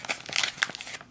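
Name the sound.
tearing open zip top of MRE ration pouch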